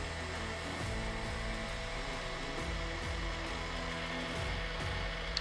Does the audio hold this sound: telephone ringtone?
no